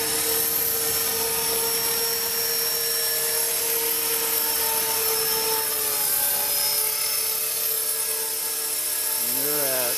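HK450 RC helicopter fitted in an EC135 fuselage flying, a steady high-pitched rotor and motor whine held close and loud throughout, with pitch wobbling near the end.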